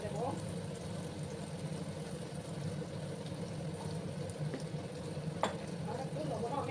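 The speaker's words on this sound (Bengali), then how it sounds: "এবার আমি আলুগুলো ভেজে নেব।" Potatoes frying in a pan over a low gas flame, with turmeric added, give a steady, even sizzle that runs the whole way through at moderate loudness and stays fairly close.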